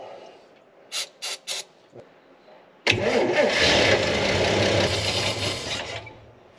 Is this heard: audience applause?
no